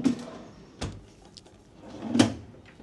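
Drawers in a Westin Fort Lauderdale beachfront hotel room being slid open and shut, a few quiet sliding thumps and clacks spaced apart in a still room.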